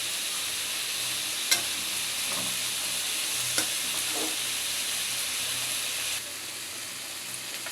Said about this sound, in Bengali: এই যে পেঁয়াজ রসুনটা ভাজা হয়ে গেছে, পুঁই শাকের বিচিটা দিয়ে দিচ্ছি।